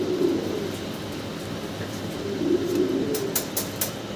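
Fancy pigeons cooing in a loft, soft low throaty coos rising and falling close by over a constant background hum, with a few brief higher clicks near the end.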